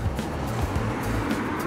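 A car passes behind an electric scooter ridden along a road in Bonn, a steady low rumble that swells and holds close by over a constant broadband rush of wind and rolling.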